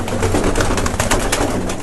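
Many kept pigeons coo in a loft, soft low throaty calls overlapping in a continuous close murmur with some fluttering and scratching.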